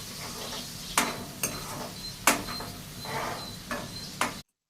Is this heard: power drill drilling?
no